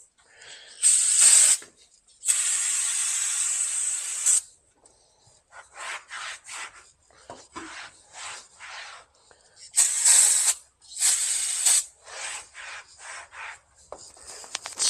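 Brake cleaner sprays in bursts onto an oily race car engine, a few longer loud hisses mixed with shorter rubbing and wiping noises at close range.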